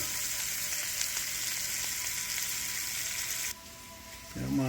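Jackfruit seeds fry in oil in a non-stick pot with a loud, steady sizzle. Near the end the sizzle drops sharply and is followed by a short clatter of stirring.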